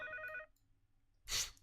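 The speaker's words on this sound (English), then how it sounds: "Such an old ringtone." An old-style telephone ringtone in a short burst of electronic trilling tones, then a pause and a brief louder noise, with no speech.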